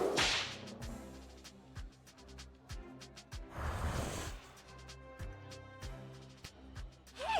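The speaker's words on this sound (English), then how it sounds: "Peaches really responded well to the crack of the whip." Sharp whip cracks from the video game Lil' Guardsman snap out repeatedly, loud and close, over a steady rhythmic game music bed.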